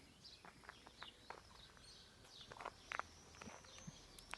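Birds chirp faintly in a morning neighborhood among houses, with scattered short calls and tweets over a quiet outdoor background alongside soft footstep-like shuffles.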